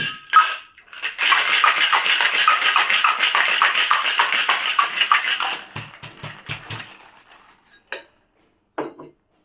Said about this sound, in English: Then you have to shake all the ingredients properly.